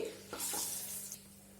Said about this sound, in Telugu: ఫ్రై చేసుకుందాం ఈ నూనెలో